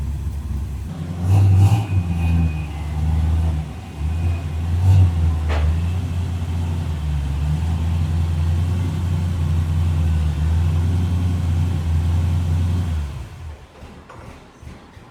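An old Ford with worn carburetors idles with a loud, steady low rumble, revving briefly a few times early on before settling back, then cutting off near the end.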